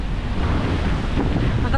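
Strong wind buffets the microphone by the sea near the shore, with waves washing in underneath as a steady, loud, broadband rush that never lets up.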